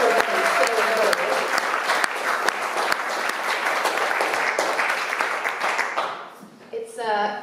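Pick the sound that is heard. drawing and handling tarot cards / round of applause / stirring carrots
round of applause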